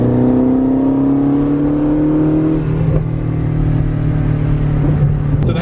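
A Ford Mustang Shelby GT350 on a mountain road, its exhaust roaring loudly and steadily as the engine holds high revs, the pitch climbing slightly before dipping and settling into a sustained drone.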